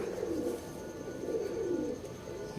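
A pigeon cooing close by, with repeated low, throaty rolling coos in a steady rhythm over faint background hum, no talking.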